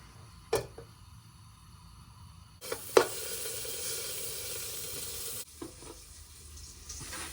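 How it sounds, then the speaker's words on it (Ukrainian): Pork cracklings sizzle and crackle in hot fat in a small pot as the fat renders out, a steady frying hiss with a few sharp pops and clinks of stirring. "І будемо смажити шкварки, щоб витопився жир."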